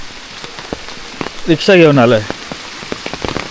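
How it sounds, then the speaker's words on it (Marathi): Monsoon rain patters steadily on surfaces during a rickshaw trip in Konkan toward Ganpatipule, with someone speaking briefly over it. "पाऊस काय गेला नाही"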